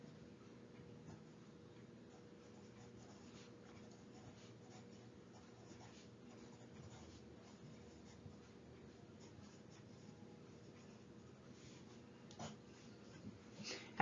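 Pencil writing a sentence on paper in a classroom lesson, a quiet continuous scratching and tapping of strokes with faint room noise and breathing, no talk.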